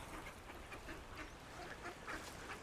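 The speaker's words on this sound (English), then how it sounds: "I just had to show you the old village duck pond though." Ducks quack faintly over steady outdoor ambience at an old village duck pond in Old Hunstanton, a quiet country village.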